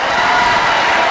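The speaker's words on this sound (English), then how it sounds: "Thank you for that very generous applause" A crowded audience applauds, a brief, loud and steady wash of clapping that fills the whole moment without a break.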